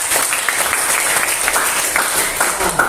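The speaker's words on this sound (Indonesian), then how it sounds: "Tepuk tangan dulu." Applause in a classroom, a steady patter of many hands clapping at close range that keeps going throughout with no break.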